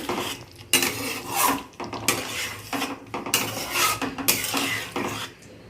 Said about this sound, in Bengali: একটুখানি নেড়ে ছেড়ে দেবো